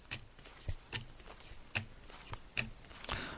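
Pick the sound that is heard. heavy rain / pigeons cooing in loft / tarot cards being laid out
tarot cards being laid out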